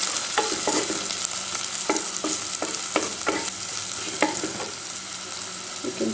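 Onions fry in a pan with a steady sizzle, broken by a string of sharp scraping knocks as a utensil stirs them.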